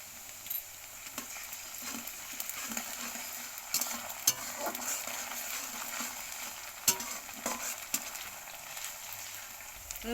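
Ginger and garlic fry in a pan for palak paneer, a soft, fairly distant steady sizzle broken by occasional sharp spoon scrapes and clicks of stirring. No voices.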